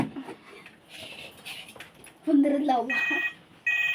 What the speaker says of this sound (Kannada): ಯಾವುದೋ ಫೋನ್ ಬಂತು ನಮ್ಮ ಋತಿಕನ್ಗೆ ಈಗ